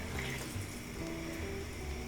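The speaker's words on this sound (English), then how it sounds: "to our 9 cups of powdered sugar, we are adding a 1/2 cup of water" Half a cup of water being poured into nine cups of powdered sugar for petit fours icing, giving a steady running, splashing trickle close by with no talk.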